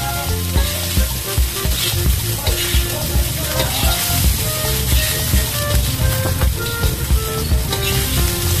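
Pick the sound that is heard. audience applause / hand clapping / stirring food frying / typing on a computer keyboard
stirring food frying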